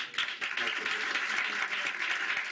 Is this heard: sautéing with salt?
no